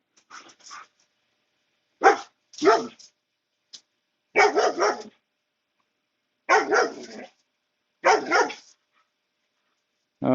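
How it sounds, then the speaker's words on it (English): A dog barks excitedly at a neighbouring dog, several loud, close bursts of barking in irregular clusters separated by short pauses. "Friend, as in, let me bark at you quite a bit."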